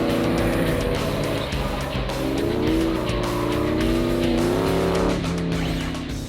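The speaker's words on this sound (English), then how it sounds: "Dave can push his Roadster to see what it can do" Factory Five replica Shelby Cobra roadster driven hard on a course, its loud engine roaring and rising and falling through the gears with tire squeal, close and continuous throughout.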